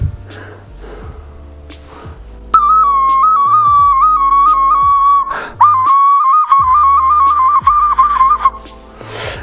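A traditional glazed clay toy whistle is blown in loud, sustained warbling notes that shift slightly in pitch. It plays in two long phrases with a short break between them, alone and close, after a few quieter knocks.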